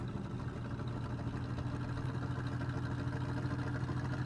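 Vehicle engines straining as wheels spin in the game Trailmakers, a steady low droning hum with constant mechanical texture, moderately loud and continuous with no talk.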